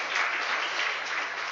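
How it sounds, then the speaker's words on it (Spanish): A church congregation claps together in a brief, steady burst of applause that fills the room at moderate volume. "Dé palmas al Señor para ahí se refresque usted"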